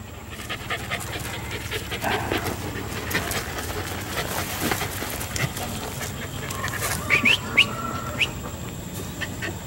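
Two small puppies pant steadily and rapidly close by, with birds chirping faintly in the background and a few brief higher calls near the end.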